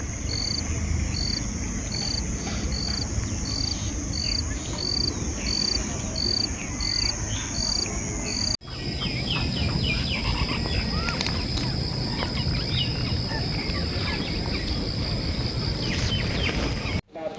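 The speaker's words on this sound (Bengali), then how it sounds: "ঝিঝি পোকার সাউন্ডটা খুবই সুন্দর লাগছিল শুনতে।" Crickets chirp densely at dusk in open ground at Purbachal, beside an old cremation site. A steady pulsing insect trill runs throughout, layered with other insect and bird calls in a constant, fairly close chorus with no talk.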